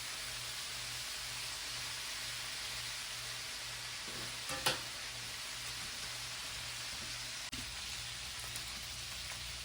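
Peppers and onions sautéing in a pan while cooking down for a steak dinner, a steady broadband sizzle like light rain throughout, with a couple of brief clinks and knocks midway and near the end; no talking.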